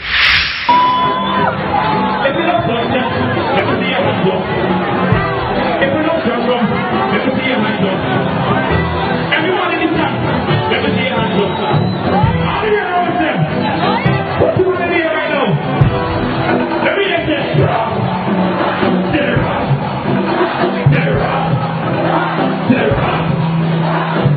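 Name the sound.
crowd singing and chanting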